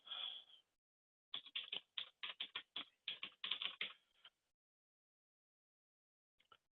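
Someone types a macro name on a computer keyboard: a short burst of clicks, a pause, then a quick run of about a dozen crisp keystrokes, and two faint taps at the end.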